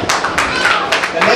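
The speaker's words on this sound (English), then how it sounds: "a big round of applause for the next contestant, Ayushka" Applause for a contestant at a school quiz event, a burst of many hands clapping in quick, uneven patter with a person talking over it.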